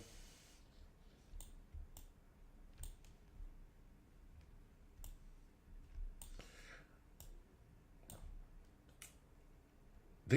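A jammed computer keyboard gives scattered sharp clicks and taps, about a dozen separate strikes spread irregularly over roughly ten seconds, fairly close against a quiet low background hum with no talking.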